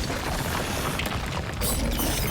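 A hand grenade goes off in the Resident Evil Requiem game, a loud, dense, continuous roar of blast and debris with a sharper surge near the end, no quiet gaps.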